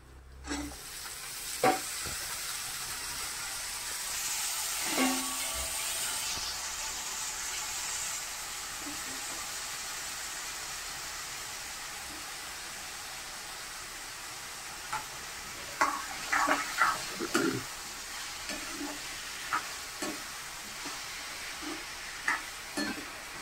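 Steady sizzling of potatoes and onion frying in oil in a pan, with a burst of hissing early on and scattered scraping clicks of stirring later.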